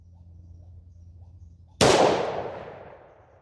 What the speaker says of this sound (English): We shot a little bit low on that one